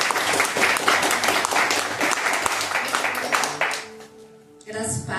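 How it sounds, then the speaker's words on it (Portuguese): A church congregation at a Father's Day and first-fruits worship service applauds to welcome a woman to the front: loud, dense clapping for about four seconds, then a brief lull before she begins speaking. "Vamos receber a serva do Senhor aplaudindo a Jesus."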